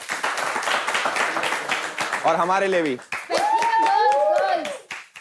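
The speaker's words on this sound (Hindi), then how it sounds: "एक बार अपने लिए ताली बजा दो" A group claps for themselves amid a lively, crowded gathering, with steady hand claps running through the whole stretch. People talk and laugh over it, and a voice is heard.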